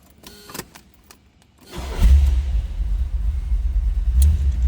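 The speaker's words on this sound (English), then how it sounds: "Let's go ahead and fire it up." A 1974 Chevrolet Corvette coupe with a 4-speed cranks briefly with a few clicks, then its engine catches at about two seconds and settles into a loud, deep, steady idle rumble up close, with a small blip of revs near the end.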